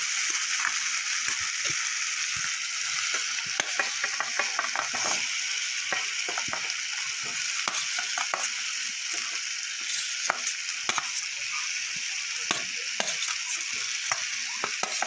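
Fried potatoes tossed with cooked-down spice paste in a pan for a cauliflower and prawn curry: repeated scraping, clicking strokes of a spatula over a steady sizzle, close and rhythmic throughout, no talk.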